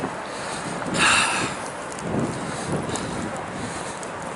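Wind blasts across an open street as a nearby building funnels it, roaring against the microphone in steady rumbling buffets with one stronger gust near the start. No one speaks.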